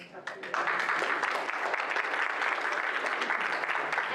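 Audience applause at a state budget forum on healthcare and education, starting after half a second, then a dense, steady wash of many hands clapping that fills the room for the rest of the clip.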